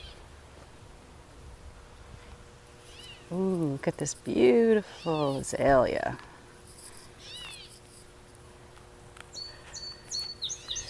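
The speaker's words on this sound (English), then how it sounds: "I hear a catbird." A gray catbird calls outdoors along the coast of Maine, faint chirps heard in the distance, mostly near the end, while a person talks nearby.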